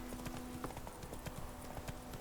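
Horse hooves clip-clop at a brisk, regular pace in The Witcher 3, a close series of sharp knocks over a soft background, with a brief tonal sound near the start.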